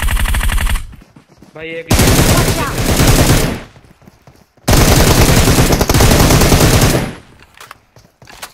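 Loud automatic gunfire bursts in PUBG Mobile, long rapid volleys split by short pauses, with a voice speaking briefly between them.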